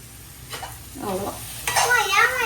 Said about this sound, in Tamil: மஞ்சள் தூள் வதக்கிக்கலாம்